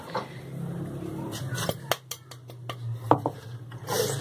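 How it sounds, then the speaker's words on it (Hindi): Two cups of maida flour being sifted for pizza dough, heard as a quick series of sharp metallic taps and knocks on the sieve over a low steady kitchen hum, fairly close and moderately quiet. "ये मैंने 2 कप मैदा ले लिया, इसको हम छान लेंगे"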